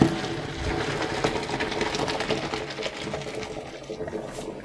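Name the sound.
straining cooked farfalle pasta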